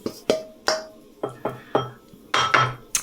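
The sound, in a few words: scrubbing out a wok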